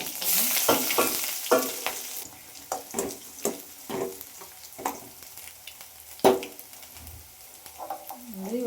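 Onions frying in hot oil in a pan with curry leaves and green chillies for a village-style spicy blood fry, a steady sizzle under repeated scraping stirs of a spoon against the pan.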